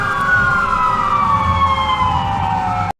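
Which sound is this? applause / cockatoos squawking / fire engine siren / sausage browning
fire engine siren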